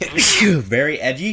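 A single sharp sneeze bursts out at close range, followed straight away by a person talking.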